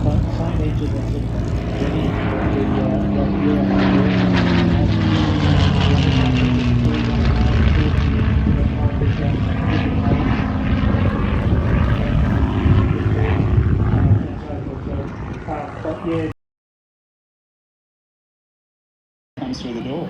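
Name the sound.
CA-18 Mustang piston-engine fighter aircraft flying at airshow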